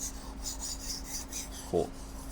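Soft, rhythmic rasping strokes of a kitchen knife blade sliding back and forth across a whetstone, close and quiet, with a brief louder scrape near the end.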